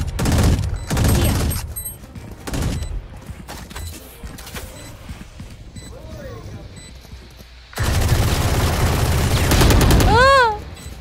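Bursts of rapid automatic fire from an Odin machine gun in a shooting video game, several loud rattling volleys separated by pauses, ending in a long sustained burst, with players' voices in between.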